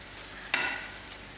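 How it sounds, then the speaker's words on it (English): Sweet pumpkin curry cooking in a pan gives a brief soft sizzle, with a single quick stir near the middle of the short stretch. "We will give it another stir and let it cook for a little more time."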